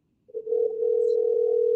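A steady telephone tone on an incoming call starts after a short silence and holds as one loud, unbroken pitch, clean and alone with no voices.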